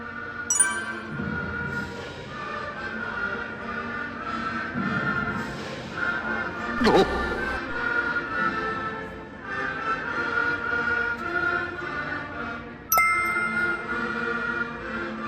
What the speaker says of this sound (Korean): 드디어 아이의 국가 연주가 시작돼요.